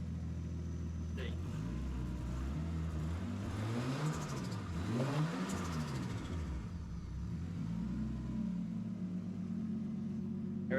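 A repaired car's engine runs steadily close by, its rumble rising and falling through several revs, with no one talking over it.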